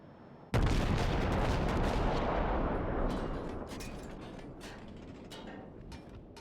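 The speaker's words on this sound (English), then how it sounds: "Now I'm still firing AP at this guy." Naval video game destroyer Farragut firing its guns: a sudden loud blast followed by a long rumbling roar that slowly fades, with a few fainter shots cracking near the end.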